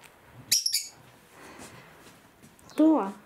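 A pet bird lets out a quick pair of bright, high chirps near the start. A lower, voice-like call follows near the end over a quiet indoor background.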